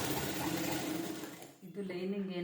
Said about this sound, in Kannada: ಅದಕ್ಕೆ ಲೈನಿಂಗು ಮತ್ತು ಬಟ್ಟೆ ಎರಡೂ ಸೇರಿಸಿ ಹೊಲಿಗೆ ಹಾಕಬೇಕು.